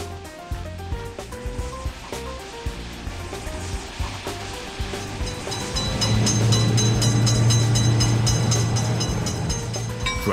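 Close to a road crossing, a passing train grows steadily louder into a continuous heavy rumble, with a sustained low droning tone through the second half and no voices.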